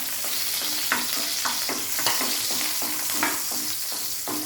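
Garlic fries in hot oil in a pan, a steady close sizzle broken by regular stirring scrapes about every half second, with no voices.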